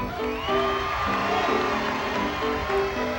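A crowd at a New Year's Eve show whoops and cheers for a band member, with steady held musical tones playing under the noise throughout.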